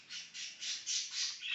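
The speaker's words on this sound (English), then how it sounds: "I apologize for my birds in the background. I have two parakeets" A pair of pet parakeets give a string of five or six scratchy, high squawks in steady rhythm, quiet and somewhat distant in a room.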